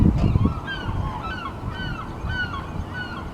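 Seaside gulls call in a noisy flock on the Fourth of July in Astoria, a steady chorus of short honking cries overlapping near and far, with a burst of low rumble at the start.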